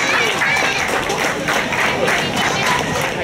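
Spectators applaud and cheer for runners at the finish of the Woellust Run 2017 in Veendam, a dense, steady wash of clapping and crowd noise.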